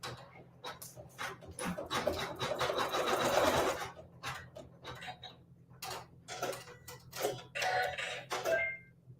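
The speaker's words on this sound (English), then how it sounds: "and we'll sew our seam." An embroidery machine stitches a quilt seam with a steady mechanical whir and rapid needle ticking, close, pausing and restarting in short bursts.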